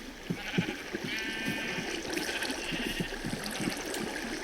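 Sheep bleat repeatedly on a wool farm in a video game, several overlapping calls over a steady trickle of water and a constant ambient background, with no one speaking.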